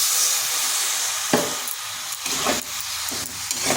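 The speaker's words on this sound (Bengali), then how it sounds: "এখানে সামান্য একটু জল দিচ্ছি।" Water poured onto frying spices in a pan for a vegetarian ol kopi dish sets off a sharp hiss and steamy sizzle, with a few stirring scrapes following, close and alone.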